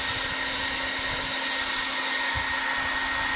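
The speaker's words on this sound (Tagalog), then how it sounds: "Gamit tayo ng hair blower." A hair dryer blows steadily on a Marvel Select Hulk action figure, a constant close whooshing hum with an even motor tone throughout.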